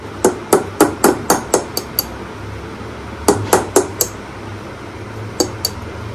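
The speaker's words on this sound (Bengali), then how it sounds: "এটাকে আমি ফুটো করছি, ফুটো করে এটার মধ্যে গাছ বসাবো" An empty plastic yogurt container is punched with holes to make a plant pot. The punches come as loud, sharp taps in quick bursts of several hits, with short pauses between the groups.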